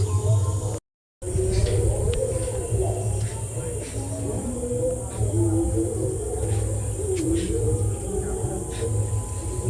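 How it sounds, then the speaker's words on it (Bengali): Pigeons or doves coo softly and repeatedly nearby, mixed with other bird calls over a steady outdoor background, with faint voices in the mix. "বন্ধুরা এগুলো কী পাখি কমেন্ট করো"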